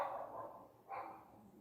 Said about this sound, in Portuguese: Se esse cachorro parar de latir, a gente começa o nosso vídeo